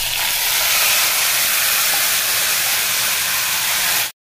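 Two large grated tomatoes hit a hot pan and sizzle loudly, a dense steady hiss that holds evenly, then cuts off abruptly at the end.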